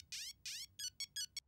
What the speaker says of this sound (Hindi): मेरा ही फोन बज रहा है।